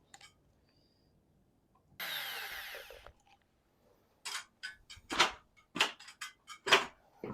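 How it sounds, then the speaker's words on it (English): A power drill drilling a wall bracket whirs in a single one-second burst, followed by a series of sharp clicks and knocks from handling tools nearby. "I forgot we had to drill the bracket."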